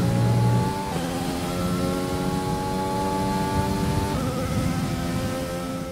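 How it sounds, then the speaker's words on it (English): A high-pitched Mercedes Formula 1 engine in the video game F1 2020 whines steadily at close range from on board, its harmonics shifting up and down through gear changes, with no talking. "I'll leave you on board for a little bit for the Mercedes engine noise."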